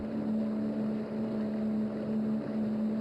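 Steady low droning of a motorboat motor running continuously on the Kaveri River, loud and close, with a faint wash of wind.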